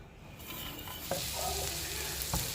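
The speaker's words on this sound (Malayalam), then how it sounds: "ബട്ടർ ഉരുകി തുടങ്ങുമ്പം 4-5 അല്ലി വെളുത്തുള്ളി ചെറുതായിട്ട് നറുക്കിയതും ഒരു ചെറിയ കഷ്ണം ഇഞ്ചി ചെറുതായിട്ട് നറുക്കിയതും ഇട്ട് നല്ലതുപോലെ വഴച്ചെടുക്കണം" Finely chopped garlic and ginger sautéing in melted butter in a pan, a soft continuous close sizzle with a couple of brief spoon stirs, no talking.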